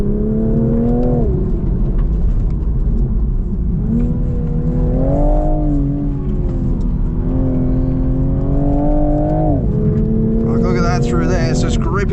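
Toyota GR Supra (2025) engine on a test drive, loud in-cabin drone rising and falling through repeated rev climbs and gear changes, continuous and close.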